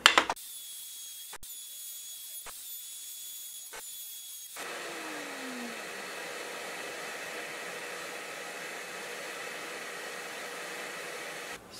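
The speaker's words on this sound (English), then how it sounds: "I went and put in just a 45 chamfer bit. I'm going to take the outside edge down just a little bit." A router fitted with a 45-degree chamfer bit shaping the outside edge of a wooden picture frame, a few clicks and a brief hum before the motor spins up to a loud, steady high whine that runs to the end.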